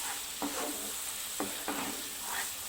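Ground masala paste for fish bhaji sautéing in oil, a loud steady sizzle with a few distinct stirring scrapes spaced about a second apart, close and without speech.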